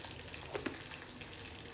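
Curry leaves and asafoetida in hot oil for Maharashtrian kulith pithla, a soft, even sizzle with a couple of small pops, heard close and with no talking.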